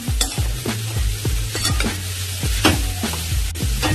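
Mokha wild vegetable stir-frying in a pan, with a steady sizzle broken by regular scraping strokes of a spatula, close and clear, with no talking.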